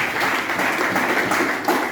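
Congregation applauding in a church during joyful French-language worship, a dense, steady wash of many hands clapping that fills the whole moment with no pauses.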